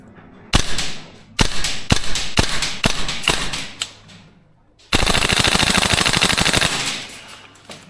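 A VFC URGI gas blowback airsoft rifle firing outdoors, first a string of loud separate shots, then a sustained full-auto burst of rapid cracks lasting about two seconds.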